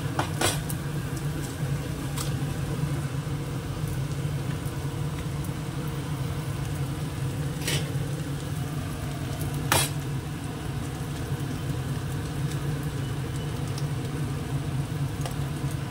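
Two eggs frying in a pan over browned, reddish carrots: a steady, close, even sizzle with a low hum beneath, broken by a few sharp clicks and taps, with no talk.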